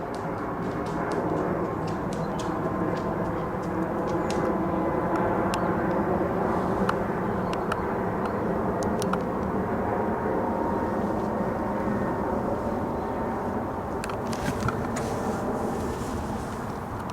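A Boeing 737 jet airliner roaring overhead, a steady broad rumble that stays loud throughout with faint distant crackles.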